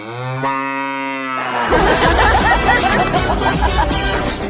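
A large buffalo lets out one long, full-throated moo lasting about a second and a half, close by, before loud rough broadband noise takes over for the rest.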